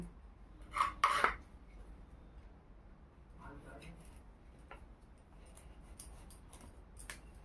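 A knife slices through a home-grown papaya, giving a couple of sharp scraping cuts early on, then fainter scrapes and light clicks, while a voice talks quietly in between.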